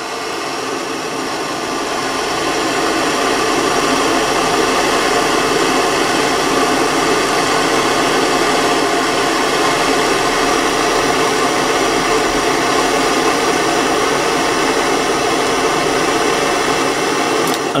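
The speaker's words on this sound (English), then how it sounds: "propane torch like this one. And just heat the last coil until it's bright red." A propane torch heats the last coil of a compression spring until it glows bright red, giving a steady, loud roaring hiss that holds unbroken throughout.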